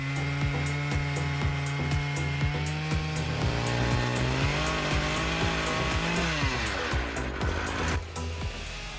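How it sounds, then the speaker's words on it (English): An Arbortech thin-bar chainsaw saws through oak with a loud, continuous high buzzing whine that shifts pitch as the cut loads, running nearly nonstop with rapid clicking texture. "Today, Oak is sawn using an Arbartech saw, a new type of chainsaw, which is much thinner, creating less sawdust"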